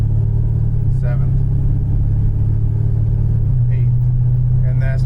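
A Pontiac GTO engine hums steadily from inside the car as it drives, a constant loud low drone with a slight shift in pitch partway through, while someone talks briefly over it.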